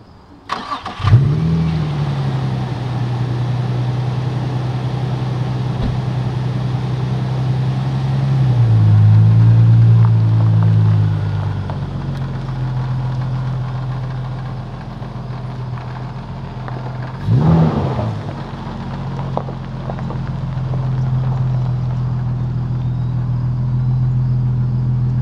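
A Nissan G35 drift car's engine cranks and fires up, then idles with a low steady rumble, gets a short rev around the middle, and later blips again as it moves to park.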